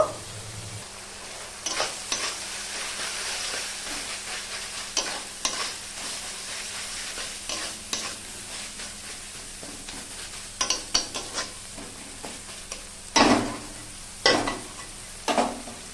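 Curry gravy for a fish curry bubbling in a pot: a steady low simmering hiss with scattered pops and several louder knocks or scrapes toward the end.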